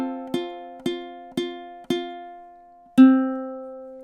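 A ukulele plays measure 12 of a song: five cleanly plucked notes, four evenly spaced and then a louder final one that rings out, solo and close.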